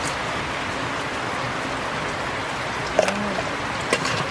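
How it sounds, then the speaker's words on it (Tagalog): Heavy rain from a super typhoon pours steadily in the Philippines near a fish pond about to overflow, a dense, even hiss throughout with a couple of brief knocks near the end. "Wala pa rin pong tigil ang ulan."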